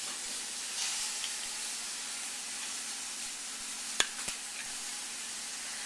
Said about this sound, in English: I also have bacon cooking on the stove